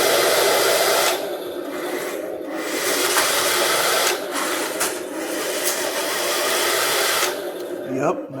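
HengLong RC KV1 model tank motor running at full throttle, a loud, high-pitched electric whine sustained for several seconds and dipping briefly a few times.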